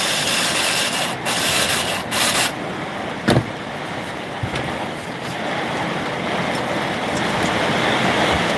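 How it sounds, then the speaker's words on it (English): Steady rain pours down on a workshop during a live repair session, a dense continuous hiss with a few louder knocks and thumps over it. "Hear that rain, guys?"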